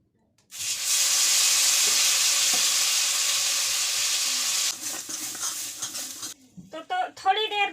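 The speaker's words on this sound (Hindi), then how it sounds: "तो सबसे पहले हम पिसे हुए भट्ट को फ्राई करेंगे इसमें।" Ground bhatt (black soybean) hits hot oil in a pan with a sudden loud sizzle that holds steady, then fades into softer spattering and a few utensil scrapes; a voice begins speaking near the end.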